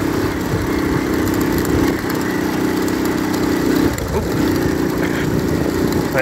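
Honda ATC110 all-terrain trike engine running steadily close by, a continuous buzzy small-displacement drone with slight throttle wobbles throughout, no talk.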